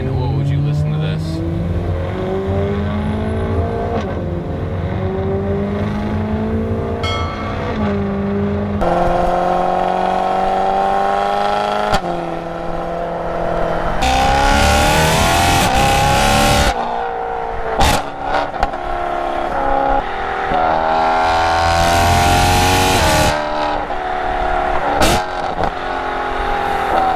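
A modded BMW E92 M3 with a stock exhaust and a catless X-pipe cruises and revs. The engine note rises and falls through several gear changes, with loud, raspy bursts of acceleration and short lifts off the throttle, heard close up from inside the car.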